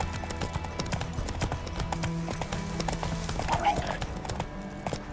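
A horse named in The Witcher 3 clip-clops along at a steady walk, hooves thudding continuously under game music and ambient sound, fairly close.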